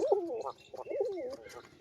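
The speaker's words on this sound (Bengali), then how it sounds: "এই যে নর পায়রা" A male pigeon coos in a few soft, throaty rolling phrases, close by and fairly quiet, with short pauses between calls.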